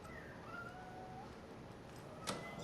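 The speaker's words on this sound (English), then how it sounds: "Oh, my blind cat's going off" A blind cat in the Alan Wake 2 video game lets out drawn-out, wavering meows with a rising and falling pitch over a steady background hum. Near the end comes one sharper, louder cry.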